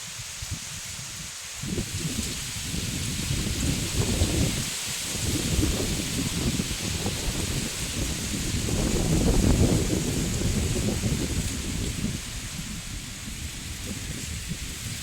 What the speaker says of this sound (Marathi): बाळ बघा पाऊस काय पडला ना बरं का सकाळपासून